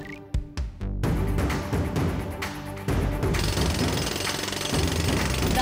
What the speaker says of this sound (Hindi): मैंने ड्रिलिंग शुरू कर दी है।